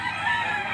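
A rooster at the Lipa poultry auction market, a brief crow fragment that is close and fairly loud.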